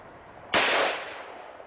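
A single sharp rifle shot from cheap steel-cased ammunition fired through a wooden telephone pole outdoors, a loud crack that decays over about a second with no speech.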